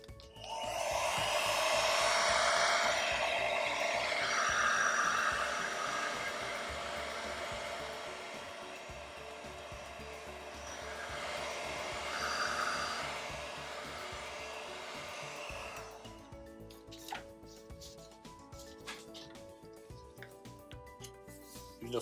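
A hot-air blower runs steadily as it heats the back cover of a Samsung Galaxy A40 phone to soften the glue, giving a loud, continuous whoosh that shifts slightly as it moves, then cuts off near the end.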